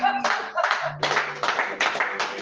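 A church congregation claps in a rhythmic burst of applause, sharp hand claps repeating in quick succession with voices mixed in beneath.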